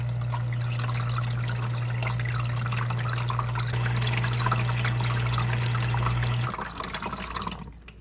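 An Anbull commercial ice machine running its final rinse, with a steady low pump hum and trickling water that suddenly stops, leaving a soft dribble as it drains.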